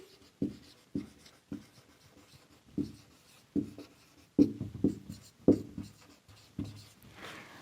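Marker or chalk taps and strokes on a board come in a steady series of soft, close knocks and scratches, about one every half second, with no voices.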